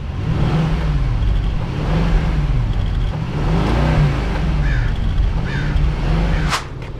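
A non-AMG Mercedes S-Class in Sport mode revved while stationary, several rising and falling engine swells in a steady rhythm, moderately loud and heard close without talk.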